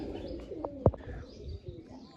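A pigeon at a loft gives a clear rolling coo with a sharp flutter or tap near the middle, and faint chirps and background noise continue around it.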